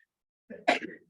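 A single sneeze bursts out at close range in a quiet lecture room, a short sharp blast preceded by a brief intake of breath and followed by a softer trailing sound.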